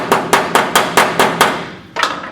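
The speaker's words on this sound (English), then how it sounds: "I'm hitting it like this because I'm wanting that weld to penetrate and go inside" A metal hammer strikes a weld on the steel firewall of a 1937 Lincoln Zephyr, six loud, evenly spaced ringing blows followed by a short pause and a final hit, close up.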